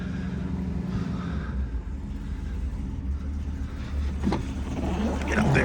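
A 1965 Ford Mustang convertible idles steadily with a low, continuous engine rumble, close and fairly loud, with a few faint knocks near the end.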